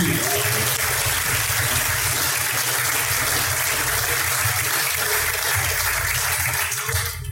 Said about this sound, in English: put your hands together for Lickard Pigs Barbecue